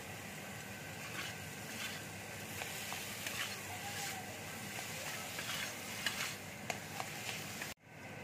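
Ridge gourd cooked with sugar sizzles steadily in a pan, fairly faint. Soft scraping stirs recur throughout, and the sound cuts off abruptly near the end.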